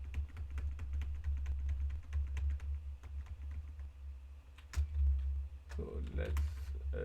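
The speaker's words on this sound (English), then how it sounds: "so here I have to type prod" Computer keyboard typing in a Linux terminal, a quick run of close, distinct key clicks with short pauses, fairly quiet, followed by a little talking near the end.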